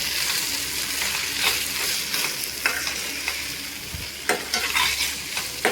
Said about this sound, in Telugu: కొంచెం వేసి దీన్ని కూడా మంచిగా కలిపేద్దాం